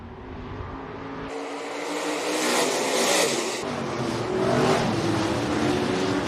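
AWS stock cars race at Rapid Speedway, a loud continuous engine roar that swells as cars pass close. No voices are heard over the engines.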